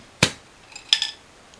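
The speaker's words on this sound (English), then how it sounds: "You don't screw it, you pop it." A blood orange drink bottle has its cap popped off: a sharp close pop, then a second fainter pop and a short hiss about a second later, with no talk.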